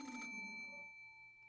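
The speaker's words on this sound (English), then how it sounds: "The sudden ring of the phone made me jump so hard I thought my heart would explode." A telephone on a bedside table ringing in the Umineko Chiru video game, a single bright electronic bell ring that fades into a sustained tone, heard alone at moderate volume.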